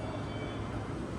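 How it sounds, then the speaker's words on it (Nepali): A pink line metro train in Delhi arrives with a steady, close, low rumble that fills the whole moment without a break. "आयो हाम्रो पिङ्क मेट्रो आयो"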